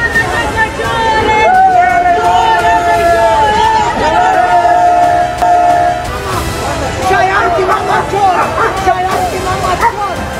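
PTI and PML-N workers shouting slogans at each other outside Avenfield in a heated street confrontation, loud overlapping chanted voices and crowd hubbub, close and continuous.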